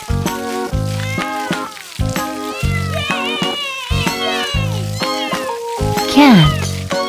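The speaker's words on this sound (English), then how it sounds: "Cat." A cat meows several times in a row, loud and close, the calls rising and falling between short gaps, one drawn-out cry near the end, alongside a voice naming animals in a children's farm-animal setting.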